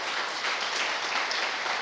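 A church congregation applauding during an evening service, a dense, steady wash of clapping from many hands, continuous and fairly loud throughout.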